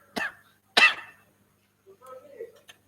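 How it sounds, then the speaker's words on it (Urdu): Two sharp coughs close together near the start, followed by a brief soft vocal murmur; otherwise quiet. "کھانسی ہے."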